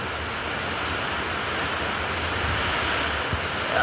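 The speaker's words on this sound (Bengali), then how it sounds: "বৃষ্টি পড়ছে, বুঝতে পারবে।" Steady rain hisses under gusting wind, a continuous broad roar that stays fairly even throughout with no voices.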